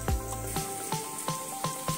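Chopped onions sizzling in oil in a kadhai, a steady frying hiss broken by soft periodic stirring scrapes about every third of a second, with a faint thump at the start.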